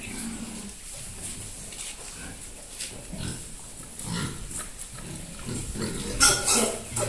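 Pigs in a pigsty on a farm, grunting and snuffling on and off over steady farmyard background noise, with a brief louder squeal near the end.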